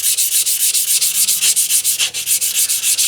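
Fine-grit sandpaper rubs across the face of a leathercraft hammer in quick, even back-and-forth strokes, about five or six per second, close and loud, with no talk.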